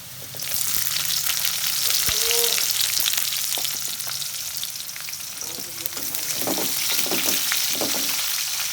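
Onions fry in a hot pan with a steady, loud close sizzle and crackle, joined by faint scraping and a few light knocks from stirring, with no voice present.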